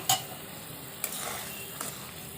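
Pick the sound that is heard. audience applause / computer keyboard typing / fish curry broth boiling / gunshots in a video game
fish curry broth boiling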